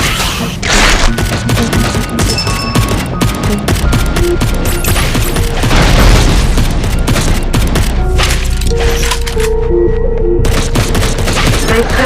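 Gunfire and grenade blasts in a 2D side-scrolling mobile action game, loud and continuous, with dense shots, booms and thuds layered over electronic game sounds throughout.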